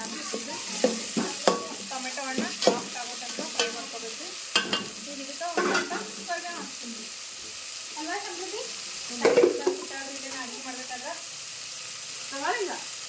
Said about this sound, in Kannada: ಉಳ್ಳಾಗಡ್ಡಿ ಮೆಣಸಿನಕಾಯಿ ಎರಡು ಫ್ರೈ ಇದಾವ